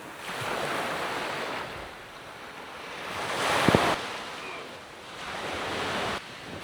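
Surf washing ashore at Red Beach, Santorini, in slow swells that rise and fall, with a steady breeze buffeting the microphone and a gentle wash of water close by.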